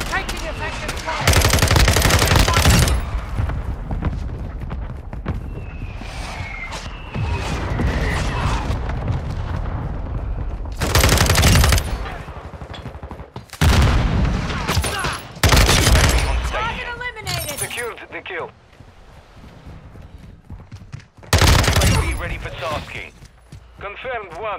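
Automatic gunfire in Call of Duty: Modern Warfare II arrives as several loud, sustained bursts separated by quieter gaps, with radio-style voices talking between and under the shooting.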